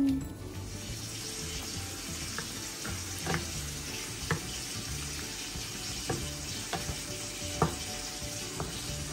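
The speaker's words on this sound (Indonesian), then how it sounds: "kita goreng hingga kecoklatan dan kulit ayamnya kering ya" Steady close sizzling of chicken skin frying in hot oil, with occasional clinks and scrapes of stirring over the continuous hiss.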